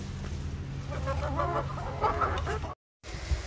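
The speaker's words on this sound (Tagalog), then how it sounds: "Nakaka-enjoy tingnan ang mga manok." Chickens cluck at a chicken farm, several close birds murmuring and clucking continuously under a brief dropout near the end.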